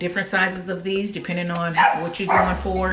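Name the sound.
dog barking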